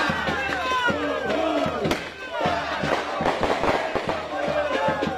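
Fireworks bang and crackle outside a prison gate during a good-humored protest by public servants, the sharp bursts mixed with loud crowd shouting and cheering throughout.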